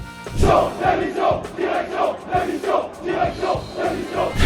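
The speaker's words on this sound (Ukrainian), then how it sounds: "Вболівальники зібралися перед в'їздом на територію штаб-квартири Парижан та вигукували образливі заряди на адресу аргентинця." Football fans gather outside the Paris Saint-Germain headquarters and shout insults at the Argentine player. The crowd's rhythmic chant repeats steadily and loudly in regular pulses, with no single voice standing out.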